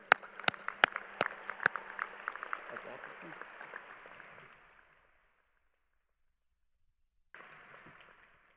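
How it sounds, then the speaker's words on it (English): Audience applause at a medical school commencement ceremony, a few sharp close claps over a wash of distant clapping that fades out, followed by silence and then a brief stretch of a voice speaking. "I'd now like to hear a round of applause for Dr. Atkinson."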